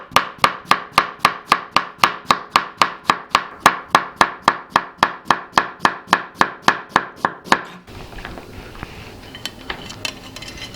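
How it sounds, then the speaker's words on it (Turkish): Rapid, steady knife chops finely slicing red cabbage on a cutting board, about thirty even strokes close up, then the chopping stops and quieter handling noises follow. "Lahanayı incece doğrayacağız"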